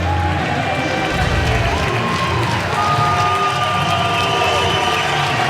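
Baseball stadium crowd at the Men's College World Series, Coastal Carolina vs. Louisville, cheering loudly and steadily throughout as a broad wash of noise.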